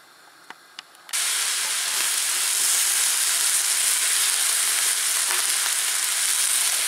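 A loud, steady sizzle of vegetables frying in a large pan for stewing starts abruptly after a couple of light clicks and continues without pause.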